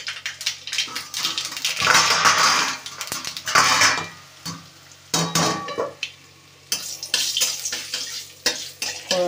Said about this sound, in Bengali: তেলের মধ্যে শুকনো লঙ্কা, কালো জিরে আর সর্ষে